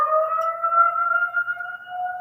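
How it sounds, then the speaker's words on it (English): A monthly civil defense siren test sounds alone as a steady, loud two-tone wail, two sustained pitches holding evenly over a couple of seconds with no talk. "First Wednesday of the month, 1 p.m. They do a siren test."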